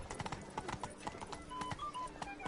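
Horse galloping in the video game The Witcher 3, a rapid, steady run of hoof clip-clops over a busy background of game ambience and music.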